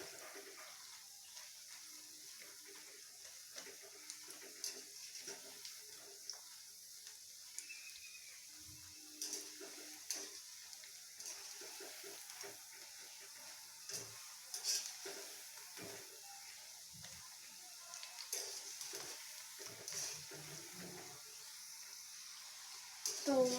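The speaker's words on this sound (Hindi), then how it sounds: "इसे ऐसे ही पलट पलट कर हमें मीडियम फ्लेम पे अच्छा क्रिस्पी होने तक फ्राई कर लेना है" Coriander leaf pakoras deep-frying in hot oil over a medium flame, a faint steady sizzle with occasional soft bubbling and stirring clinks, continuous and quiet.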